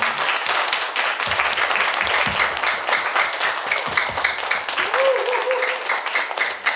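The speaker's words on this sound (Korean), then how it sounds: "그 크신 하나님의 은혜에 감사해서 영광의 박수 하나님께 올려드리겠습니다." A church congregation claps together during a Sunday anniversary service, a loud, sustained burst of dense applause that fills the room, with a brief voice audible near the end.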